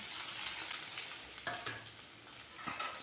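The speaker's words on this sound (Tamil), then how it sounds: "கடுகு பொரிஞ்சதுக்கப்புறம் வெங்காயம் ஆட் பண்ணிக்கலாம்." Onion frying in oil with mustard seeds that have already popped, a continuous bright hiss of sizzling with a few soft scraping stirs, close and fairly even throughout.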